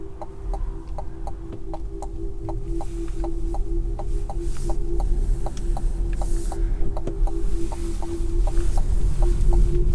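A 2024 Cadillac Lyriq electric luxury SUV accelerating in sport mode, giving a steady low hum and throbbing drone that grows slowly louder, with faint regular ticking over it and no talk.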